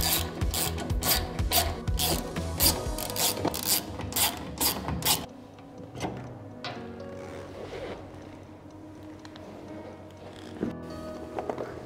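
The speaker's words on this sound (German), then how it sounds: "damit wir im Anschluss diese drei Schrauben lösen können und den Seewellenmotor" Screws are loosened to remove the seed shaft motor on a pneumatic seed drill, with rapid, close ratcheting clicks for several seconds, then quieter scattered mechanical knocks and handling noise.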